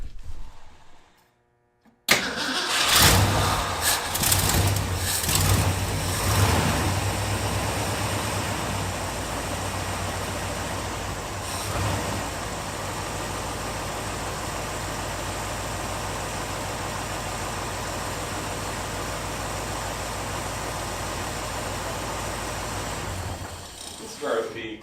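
A 1967 Ford F250 ramp truck fitted with a new carburetor cranks briefly, catches and settles into a steady, loud idle that drones on evenly for over twenty seconds before cutting off.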